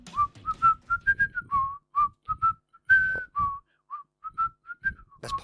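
A person whistles the tune Pop Goes the Weasel, a clear, close melody of short notes in a bouncy rhythm with brief breathy gaps, no speech.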